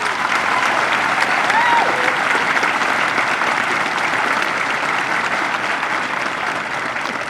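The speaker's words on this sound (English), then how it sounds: "So let's give them one round of applause." Audience applause at an Air Force basic military training parade, with a large crowd clapping loudly and steadily throughout, voices faint beneath.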